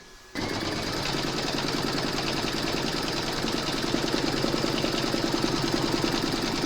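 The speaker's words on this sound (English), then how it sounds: "Pop your hoop into your machine and stitch round number 2." Embroidery machine stitching the outline of a trapunto feather quilt block for a cushion cover, a steady, rapid mechanical chatter that starts abruptly and runs continuously at close range without speech.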